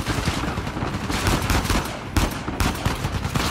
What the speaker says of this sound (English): the shooting is pretty hardcore up in here